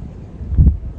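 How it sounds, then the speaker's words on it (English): A low, rumbling wind gust swells and buffets briefly, brushing against the microphone before easing back to a steady breeze. "Even as the wind gusts kick up,"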